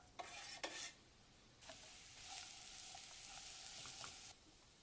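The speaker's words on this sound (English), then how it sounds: "I'm going to put in my onions and my mushrooms." Onions and mushrooms hit hot oil in a pan on medium-high heat and crackle quietly, a few sharp pops at first and then a steady, faint sizzle with scattered spits.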